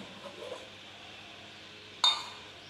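A lid lifts off an idli steamer pot holding steamed vattalappam, giving a single sharp metallic clink and rattle near the end, close and fairly loud over a quiet kitchen background.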